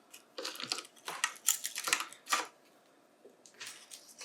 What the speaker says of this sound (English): if we remove these screws